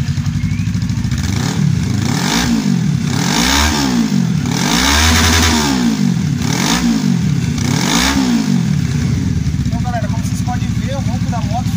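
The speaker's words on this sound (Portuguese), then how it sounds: "Então aqui eu vou ligar a moto agora, né, com o DB Killer" A motorcycle fitted with a DB Killer exhaust insert, likely an Inazuma, starts and revs in several rising and falling surges, loud and close, then settles toward idle at the end.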